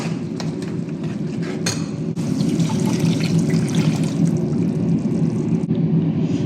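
Water pours and splashes steadily into a mixer jar to rinse it, with light clinks of the jar or a utensil in between.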